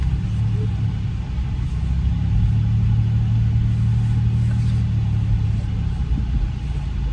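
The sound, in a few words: car driving past on the road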